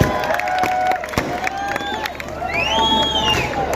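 Audience at a Samajwadi Party public rally in Malegaon clapping and cheering, with shrill whistles and shouts over a loud, dense crowd roar.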